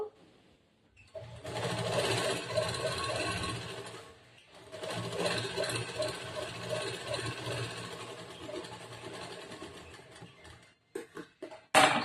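A sewing machine stitches lining cloth onto a blouse, running in a close, steady mechanical whir for a few seconds, pausing briefly, then a longer run before stopping with a few clicks.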